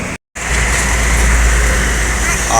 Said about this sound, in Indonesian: Bus tanpa nama melintas